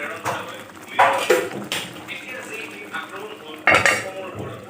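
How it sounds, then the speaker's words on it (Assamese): Metal clanks and clatter of a lid being set onto a pot of boiling paneer dish, a few sharp knocks over low kitchen background noise. "এইখিনি আমি অকণমান উতলিবলৈ দিওঁ, ঢাকন এখন দি দিওঁ।"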